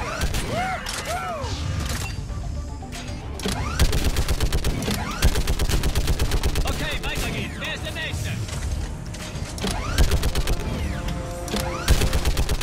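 Mounted turret gun firing in Mass Effect 3, rapid sustained bursts of heavy gunfire with mechanical whirring and scattered explosions, while someone talks over the action.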